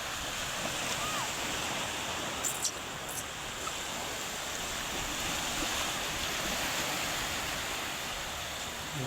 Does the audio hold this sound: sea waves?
yes